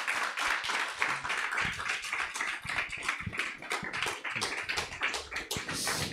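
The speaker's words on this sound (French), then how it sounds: "On peut l'applaudir encore une fois." An audience at a YouTube evening event claps in steady, dense applause, close and lively, with no voices over it.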